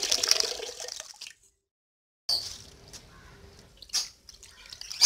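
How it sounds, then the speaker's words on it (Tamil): Water swishes and splashes in short bursts as rice is washed, with a silent gap between pours, close and moderately loud. "அரிசி நல்லா கழிஞ்சிக்கோங்க, 2-3 வாட்டி சுத்தமாக அப்படி கழிஞ்சிக்கோங்க."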